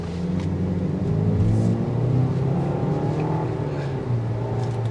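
A 2023 Land Rover Discovery S engine hums in everyday driving at light throttle, a steady low rumble heard close from inside the cabin with a slight rise and fall in pitch.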